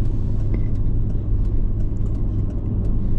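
Busy morning road with cars streaming past, a dense steady low rumble of engines and tyres with scattered short hisses from nearby vehicles.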